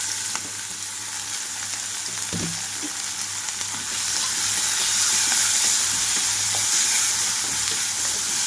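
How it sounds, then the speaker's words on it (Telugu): Chopped onions and green chillies hit a hot mustard-seed and asafoetida tempering for a brinjal and fenugreek leaf curry, giving a steady close sizzle and crackle that grows slightly louder midway and continues without pause. "కట్ చేసి పెట్టుకున్న ఉల్లిపాయలు అలాగే పచ్చిమిరపకాయలు కూడా వేసుకుంటున్నాను"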